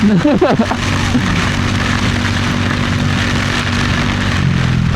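Heavy rain pounds a car in motion, a loud, steady wash of hiss over the low hum of the engine and road, with a brief voice near the start.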